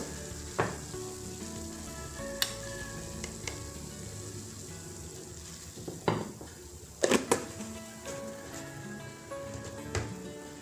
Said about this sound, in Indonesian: Saya akan merebus air sampai mendidih untuk merebus spaghetti